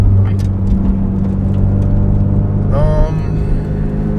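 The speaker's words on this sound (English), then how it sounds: "Just gonna bed the brakes in because I changed the rotors earlier." A Toyota GR86 drives with a steady low engine drone and road noise from inside the cabin while new rotors are bedded in; a whirring rise near the end, with some talk over it.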